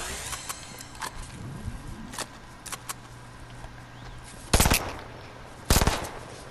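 Scattered video game gunfire opens with a few light shots, then two loud, sharp bursts of rapid fire crack close by, separated by a brief lull.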